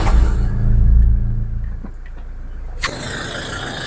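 A Toyota Fortuner automatic's engine cranks and rumbles to life up close, settling into a loud, steady idle after a brief pause.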